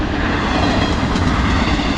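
A CSX freight train of single-stack intermodal cars rolls past close by, a loud continuous rumble and rattle of wagons with no break.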